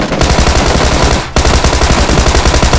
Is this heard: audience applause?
no